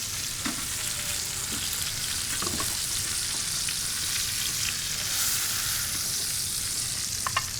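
Steak searing hard in a hot pan, a loud, steady, close hiss of fat and sizzle with a few faint knocks, and no voices.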